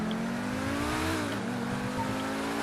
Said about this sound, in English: Sounds just like a V10.